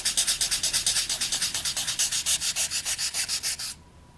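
Polymer clay rubbed with 600 grit sandpaper in about twenty quick, even back-and-forth strokes that stop abruptly near the end. The scratchy hiss is close and steady, and no one speaks.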